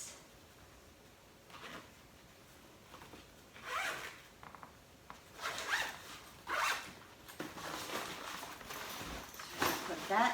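A zipper on a beach bag pouch is pulled open and shut in several quick, rasping runs, close and quiet amid handling rustle.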